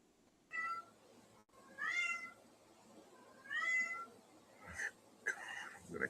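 A cat meows repeatedly indoors, several drawn-out rising and falling cries spaced a second or two apart, fairly faint against a quiet background, with a couple of shorter chirpy calls at the end.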